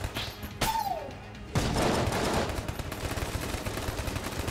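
The king gun firing in the video game Enter the Gungeon: a sharp shot and a gliding whistle, then a dense, sustained barrage of rapid gunfire with a steady crackling rumble.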